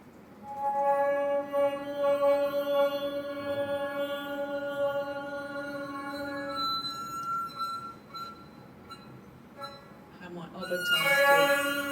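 A cassette tape rubbed along a piano string draws out a sustained, voice-like singing tone with strong overtones that swells and fades, ending in a brighter, busier scrape, heard close in a quiet room.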